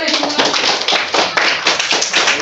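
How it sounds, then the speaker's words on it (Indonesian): A classroom of students claps together at the end of a lesson, a loud, somewhat ragged burst of many hands in uneven pulses, close and lively, with no talking over it. "Tepuk tangan semua."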